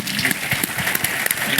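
Audience applause at a book talk, a dense, steady patter of many hands clapping at close range, carrying on at even strength for the whole stretch.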